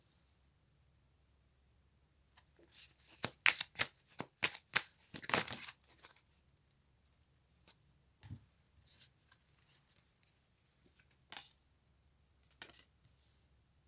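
Cards for a card reading shuffled by hand, a brief cluster of quiet riffling flicks followed by scattered soft card slides and taps in a very hushed room.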